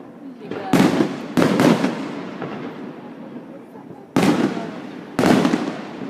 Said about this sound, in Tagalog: Merang fireworks.